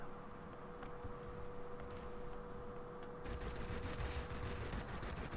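Rapid video game gunfire breaks out about halfway through, dense crackling bursts firing in quick succession over a steady electronic hum, loud and continuous to the end with no talking.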